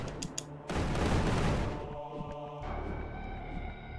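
A grenade goes off in the game The Tower on the Borderland: a loud, broad burst that swells and rolls away in a decaying rumble, with some lingering tonal game sound afterward and no talking.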